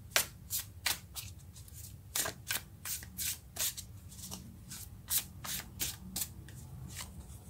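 Tarot cards being shuffled by hand in a series of quick, crisp riffling bursts spaced out over several seconds, fairly close and clear with no voices.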